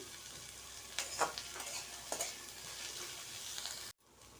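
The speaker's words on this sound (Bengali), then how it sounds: "পেঁয়াজটাকে হালকা একদমই হালকা ভেজে নেব তার সঙ্গে দিয়ে দেবো কাঁচা লঙ্কা কুচি" Onions frying lightly with chopped green chilli in a pan for chow mein, a steady soft sizzle with a few stirring scrapes, ending abruptly.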